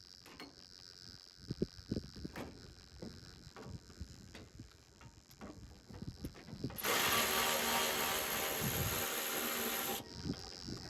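A ratchet wrench works on the fan shroud of an Olds 394 engine, giving a run of quick clicking bursts. A loud, steady hiss or rushing noise drowns the clicks for several seconds near the end.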